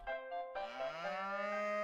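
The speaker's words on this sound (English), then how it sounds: "Cow." A cow in the farming game Harvest Moon: Light of Hope gives a short moo, then a longer drawn-out one, clear and close with no talk over it.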